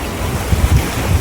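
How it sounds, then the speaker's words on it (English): Rough sea off Bimini in the Bahamas on a windy day, with a brief burst of surging surf and gusty wind buffeting the microphone in low, uneven thumps. "Look at these waves."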